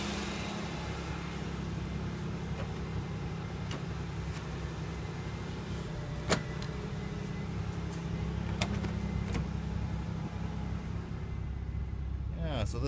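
An old car engine idles smoothly after startup, a steady low rumble with occasional faint clicks and one sharp knock, while someone speaks quietly nearby.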